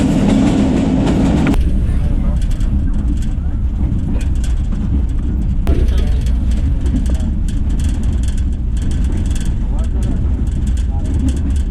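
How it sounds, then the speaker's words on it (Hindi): The Mehr Express pulls out of Daud Khel Junction in Pakistan, a loud continuous low rumble with rattling carriage clatter from close by and an indistinct voice in the background. "दाऊद खेल जंक्शन जो है वहाँ पे रुकी हुई थी 128 महर एक्सप्रेस, यहाँ से डिपार्ट कर रही है।"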